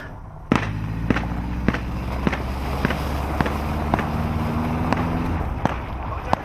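Gunfire during a security training drill: sharp single shots crack out at a fairly steady pace, loud and close, over low rumbling background noise.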